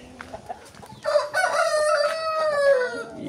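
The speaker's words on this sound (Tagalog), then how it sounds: "Yan ang mga inahin ko." Free-range hens cluck close by at a nest, then one laying hen breaks into a long, loud drawn-out call over softer background clucking.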